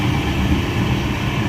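An Indian Railways passenger train runs with a steady, loud rumble and broad rushing noise heard from inside the carriage, with no talk.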